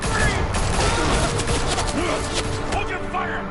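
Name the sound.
gunfire in video game Batman: The Telltale Series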